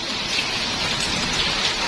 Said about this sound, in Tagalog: Sakti na ng ulan ng yelo.